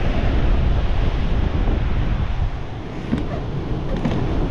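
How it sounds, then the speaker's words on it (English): Rough, heavy surf breaking steadily on a North Wales beach at about high water, a continuous loud wash of waves with wind buffeting the microphone throughout. "But there's a massive sea out there today."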